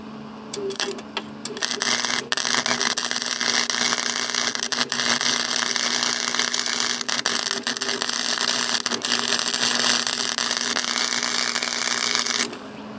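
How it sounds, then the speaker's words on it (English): A Chicago Electric Flux 125 flux-core welder from Harbor Freight lays a bead on rusty metal, giving a loud, steady crackling buzz that runs almost continuously for about ten seconds after a few short starts, with no talking. "I'm gonna see if I can do a weld."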